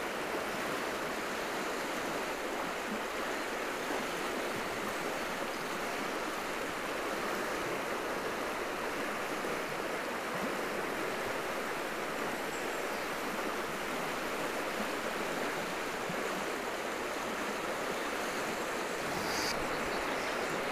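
A large river rushes steadily on a trout fishing outing, a dense, broad roar of flowing water that stays loud and unbroken throughout, with no voices.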